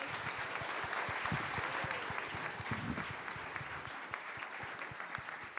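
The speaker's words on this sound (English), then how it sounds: "Round of applause." Audience applause at a food policy summit, a hall full of people clapping steadily, with some close individual claps standing out, fairly quiet overall.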